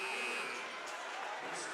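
A buzzer sounds at the end of a high school boys' basketball quarter in a gym, a sustained electronic tone mixed into steady crowd noise and a commentator's voice.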